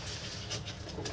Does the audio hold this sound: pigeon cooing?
yes